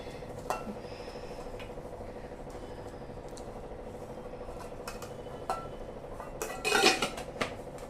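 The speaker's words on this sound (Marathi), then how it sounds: "भाजी मस्त हलवून घ्यायची" A metal spoon stirs batata rassa, a village-style potato curry with jaggery, in a pot, giving faint scattered clinks over a low steady background hum, with a louder burst of scraping and clatter near the end.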